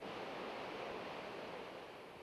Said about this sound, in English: the thundering white water below Mansfield Dam brought out sightseers by the hundreds